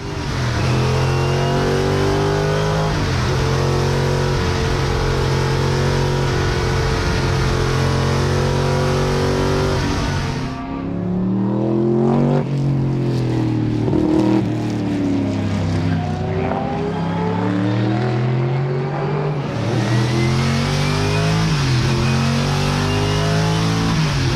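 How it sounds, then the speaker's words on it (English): A V8 car engine revs hard and loud, held at a steady roar with a brief dip mid-way before climbing again, with no talk over it. "just have a listen to this thing. It is probably one of the nicest cars you'll ever hear."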